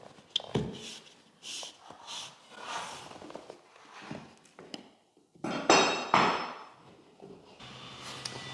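Pins hammered into a wooden skirting board: a series of sharp, close taps and thuds at irregular intervals, with a cluster of louder knocks midway, with no talking.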